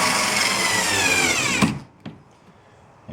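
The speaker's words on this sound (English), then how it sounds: "we'll tighten down the screws with the well nuts" A steady whirring power driver runs close by for over a second, then stops, followed by a couple of small clicks and taps, tightening screws into well nuts on a Jackson kayak.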